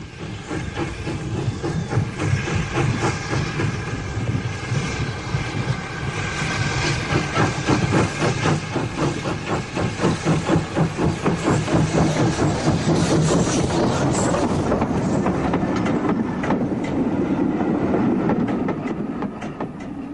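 An ex-LMS 0-4-4 tank steam locomotive working on the Scottish Railway Preservation Society's line at Bo'ness by the River Forth, chuffing rhythmically with hissing steam and rail clatter, building as it passes close by over twenty seconds.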